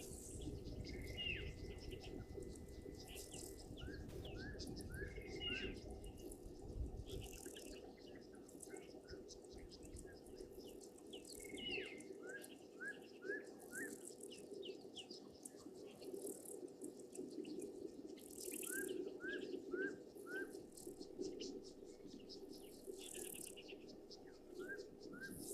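Birds calling around a water hole on safari: repeated bursts of short chirps and trills, some close and some distant, with soft cooing and a low watery background murmur, no talking.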